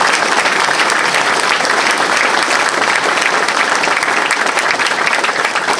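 A packed room at a congressional campaign kickoff breaks into loud, sustained applause, many hands clapping in a thick, even roar that holds steady for several seconds without talk.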